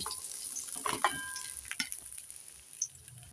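Oil hisses and crackles steadily as a piece of rohu fish fries, with a few sharp clatters and scrapes from a utensil against the pan.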